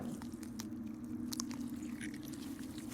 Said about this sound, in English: The wet slurpy crunching goes on for about 20 minutes